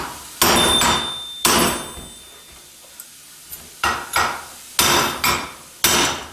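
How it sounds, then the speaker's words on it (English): Heavy metallic sledgehammer blows on an H1C turbo housing over a rubber mat ring out, loud and close, in an uneven series of about nine strikes with short pauses between them. "you take your sledgehammer, and we like to use a rubber mat like this to hammer it"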